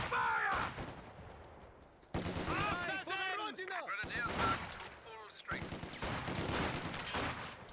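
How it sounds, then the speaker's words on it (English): Infantry gunfire crackles in the Company of Heroes 2 strategy game, bursts of rifle and machine-gun shots in several clusters, loud and close, with game voices and effects mixed in. "Taking infantry fire!"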